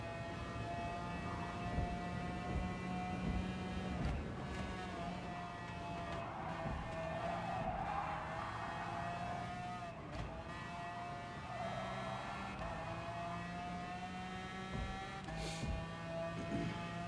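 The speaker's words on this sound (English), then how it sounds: "if I hit the gas too early, I'm gonna spin out" A race car engine in a racing video game whines at high pitch, rising and falling steadily for the whole stretch, with short scraping, skidding bursts and clicks breaking in now and then.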